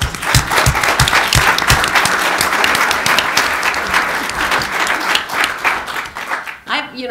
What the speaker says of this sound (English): join me in giving them a real good round of applause